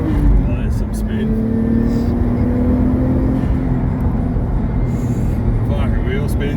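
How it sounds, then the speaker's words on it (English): A Nissan Skyline R33 with an RB25DET engine revs hard with wheel spin, its steady strained engine note loud and sustained through the clip under talk, with a quiet-ish exhaust. "Gotta love the sound of an RB when it's really digging. Even with that quiet-ish exhaust, that note."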